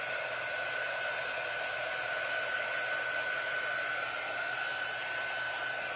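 A hair dryer blows steadily at close range for the whole stretch, drying a very wet craft transfer, giving a constant loud rushing whoosh with a thin whine and no pauses.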